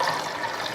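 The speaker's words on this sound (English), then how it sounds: "Now turn that stove on high and pour in your apple juice." Apple juice poured into a pot on a stove makes a steady, close, splashing liquid rush with no pauses and no voices.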